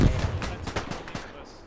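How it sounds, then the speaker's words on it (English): Gunfire and a grenade blast in a World War I combat video game, with a loud burst at the start followed by a series of sharp shots and a rumbling tail, all fairly close. "That was a grenade."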